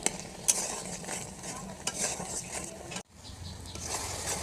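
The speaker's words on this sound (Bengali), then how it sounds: "ভেজে রাখা সেই মশলা দিয়ে এভাবে নাড়তে থাকবো।" Fried spices with chili powder, bay leaves and garlic paste for a lychee pickle, stirred in a pan, making a steady scraping and sizzling with a few clicks and a brief pause near the end.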